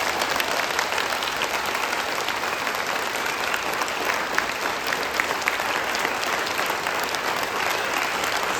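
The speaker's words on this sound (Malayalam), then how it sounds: "നല്ലൊരു കൈ, തകർപ്പൻ കൈ." A crowd at an event for students about to sit their public exams claps loudly and continuously, a dense, steady wash of applause with no speech over it.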